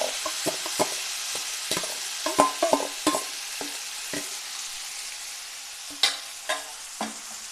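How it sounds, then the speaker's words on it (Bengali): Pre-mixed dal goes into hot oil tempered with whole cumin for tadka, followed by sporadic sizzling pops and spoon scrapes against the pan over a soft frying hiss, close and fairly quiet. "এবার আমি দিয়ে দেবো আগে থেকে মেখে রাখা ডাল।"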